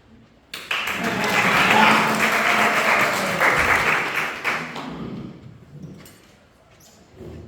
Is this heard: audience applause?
yes